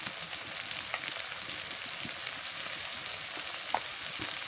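Turmeric and garlic paste frying in a pan while cooking a fish curry, a steady close sizzle with bright hiss and occasional small pops, continuous and fairly loud.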